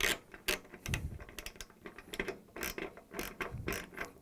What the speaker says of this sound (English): 9/32 head and the wrench. We're going to tighten it.